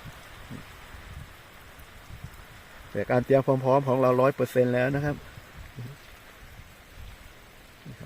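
Steady rain falls through a storm, a constant hiss of drops on surfaces that runs the whole time while someone speaks briefly in the middle.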